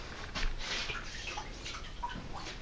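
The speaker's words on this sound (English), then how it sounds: "That sponge is kind of wasted, so it's going to go in the water." A used paint sponge is dropped into a container of water, giving soft sloshing and trickling splashes with a few drips, close and quiet, with no talking.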